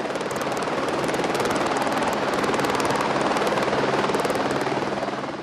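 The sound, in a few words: helicopter landing in a field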